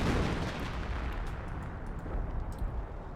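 Panther tank main cannon and machine gun firing in a Company of Heroes battle on Ducla, a dense continuous rumble of heavy blasts and gunfire heard fairly quietly, with no voices.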